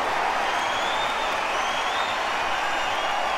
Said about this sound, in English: The crowd really getting on this.